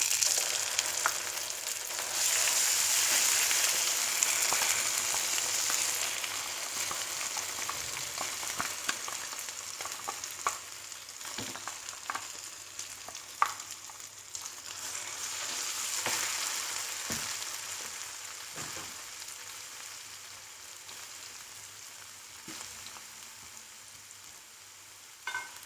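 Finely ground raw coconut paste going into a pan of frying ginger, garlic and curry leaves for a Kerala fish curry: a strong sizzle that settles into a long, steady frying hiss with occasional stirring clicks.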